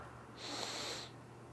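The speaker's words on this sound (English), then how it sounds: "So the way it works is it's all through the nose. So you do an initial little sniff." A single sharp sniff in through the nose, close and breathy, lasting under a second before fading back to quiet, as part of a nasal breathing exercise.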